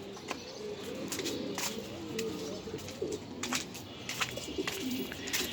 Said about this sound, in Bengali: আমার বাইরে কিছু কবুতর আছে, আমি আপনাদের দেখাচ্ছি